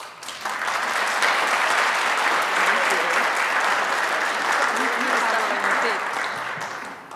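Sustained audience applause welcoming a university president to the stage at a lecture event, steady and dense clapping from a large crowd throughout, fading slightly at the end.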